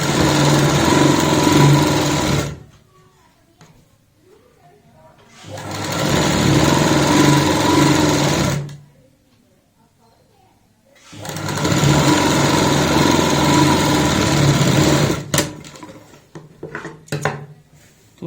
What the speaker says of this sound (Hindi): अब हम इस सिलाई को पूरा कर लेंगे नीचे तक।